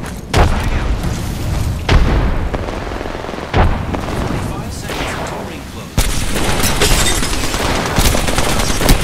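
A frag grenade explodes in Apex Legends amid a firefight, heavy booms and rattling gunfire stacking up in loud bursts, with several sharp blasts over continuous battle noise.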